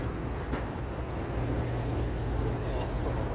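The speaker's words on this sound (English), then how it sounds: "There's the L heading around there, around in the bend there. We'll follow the train there." A Chicago L elevated train rolls around a curve on its track, a steady low rumble of wheels and cars filling the street scene, with a thin high whine running above the continuous mid-distance roar.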